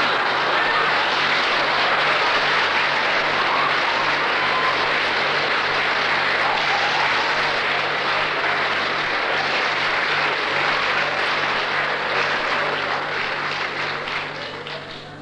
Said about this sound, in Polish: Dziękuję bardzo za oklaski.